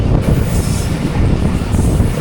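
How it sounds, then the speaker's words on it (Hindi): The Hazara Express rolls slowly through Shampir railway station in the morning, giving a loud, continuous low rumble with rattling wheel clatter close by and no voices. "सुबह के 9 बज रहे हैं जी और शमपीर रेलवे स्टेशन से भी स्लो स्पीड में पास हो रही है ट्रेन।"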